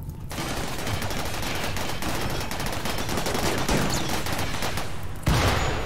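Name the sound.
gunfire from mechs' guns in RimWorld video game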